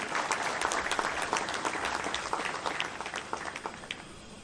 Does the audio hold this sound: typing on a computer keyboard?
no